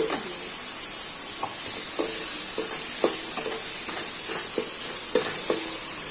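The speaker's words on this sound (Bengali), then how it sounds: "আমি টমেটো দিয়ে দিচ্ছি আর কাঁচা লঙ্কা একসঙ্গে ছিল" Tomatoes and green chillies sizzle steadily in a pan for a tengara fish curry, with a constant hiss and scattered spoon taps and scrapes as they are stirred.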